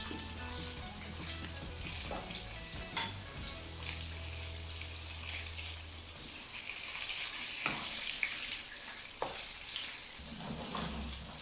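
Chicken wings frying in oil in a partly filled pan give a steady, close sizzle and crackle throughout, with a few sharper pops and clinks; no one speaks.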